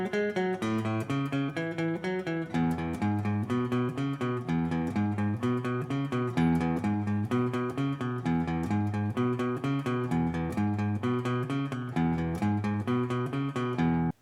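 A guitar plays the ending of a song coming out of the last refrain, with steady repeated chord strums in a driving rock rhythm, fairly quiet but clear and alone.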